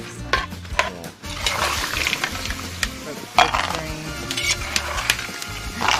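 Almonds fry in oil in a clay pot, giving a continuous crackling sizzle with scattered sharp clinks and scraping knocks from utensils against the pot.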